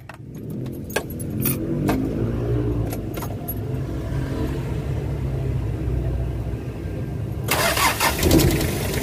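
Keys jangle and a car engine that had trouble starting in the morning cranks and fires in one click after new battery ground work, then settles into a steady close rumble.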